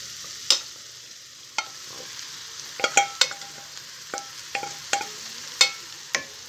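Egg Maggi noodles are stirred in a pan with fresh peas and scrambled egg, a spatula scraping and clicking in irregular sharp strokes over a soft frying hiss, with no talk.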